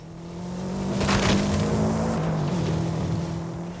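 Subaru WRX engine in a racing video game, a steady sustained drone that swells slightly through the middle and holds near, with no talking.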